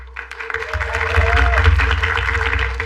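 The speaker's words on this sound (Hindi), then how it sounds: "एक बार तालियां" A crowd breaks into applause that builds and carries on steadily, loud and close, with a music bed underneath.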